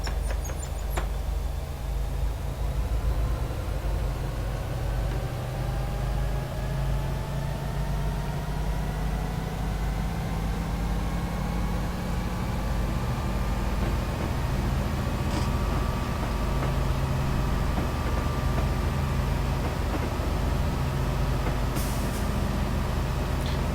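A train in Train Simulator 2016 on the Darlington to Middlesbrough line accelerates away, a steady low engine rumble with rising tonal whine building slowly over time, constant and fairly close with no talk.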